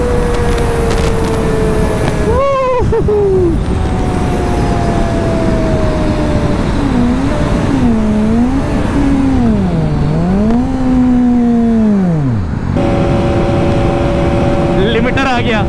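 A KTM Duke 390 single-cylinder motorcycle engine screams close by at high revs, its pitch sweeping up and down repeatedly as it bounces off the rev limiter, with a brief drop and a steady high drone at the end.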